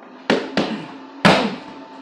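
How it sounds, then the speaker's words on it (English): Three sharp punches smack a training pad at close range during a boxing drill. Two come in quick succession, then a third, harder strike follows after a short pause, each ending in a brief reverberant tail. "That's the main punch you're looking for."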